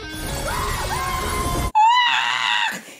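Loud, shrill goat screams from the film Thor: Love and Thunder ring out in bursts, first several wavering cries, then after a brief cut one long piercing bleat.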